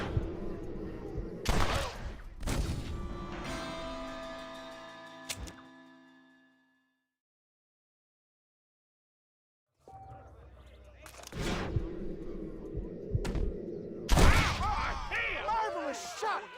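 Gunshots in the video game Red Dead Redemption come as several sharp, loud cracks, then a ringing tail fades into a stretch of silence. Later shots burst again, and voices speak near the end.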